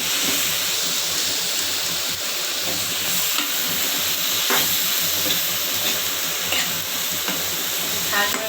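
Taro pieces sizzle and hiss in hot oil in a pan while being stirred, a constant close frying crackle with occasional scraping of the spatula.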